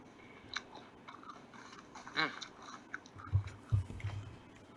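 Crunchy chewing plays from a phone speaker: several sharp, crisp bites and crunches, a few louder ones near the end, set against a faint background hiss.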